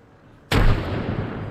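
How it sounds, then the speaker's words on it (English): A grenade explodes in the Apex Legends video game with one sharp, loud blast that cuts in suddenly from near-quiet. A broad rumbling roar follows and holds steady to the end. "Grenade out."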